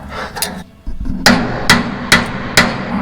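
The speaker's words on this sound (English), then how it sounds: "I've never seen a guy use the side of the hammer" A hammer, swung sideways and struck with its side, hits metal combine track parts in four sharp, ringing blows at an even pace, preceded by a couple of duller knocks.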